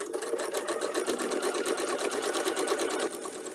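A sewing machine stitching quilt pieces runs steadily at close range with a fast, even mechanical whir and rapid needle clatter, pausing briefly near the end before carrying on.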